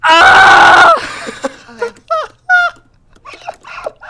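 A loud, high-pitched scream lasts about a second, followed by several short squeaky yelps and giggly vocal bursts with pauses between them.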